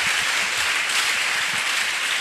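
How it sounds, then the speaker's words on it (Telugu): A church congregation claps together in dense, steady applause that fills the whole stretch evenly, loud and close, with no individual claps standing out. "చప్పట్లు కొట్టండి ఒకసారి అందరూ"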